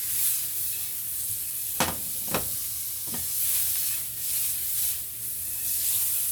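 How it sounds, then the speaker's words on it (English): Butter melts and sizzles in a frying pan as a steady soft hiss, broken by a few brief scraping strokes. "Add just a little bit more butter to the bottom of the pan. We want to get that nicely melted down."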